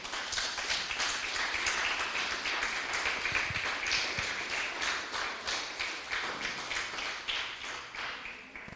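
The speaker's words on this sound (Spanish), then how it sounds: "Denle un fuerte aplauso al Rey" Audience applause in a church, right after a preacher asks the congregation for a loud round for the King: steady, dense clapping that goes on throughout and thins slightly toward the end, with no talking.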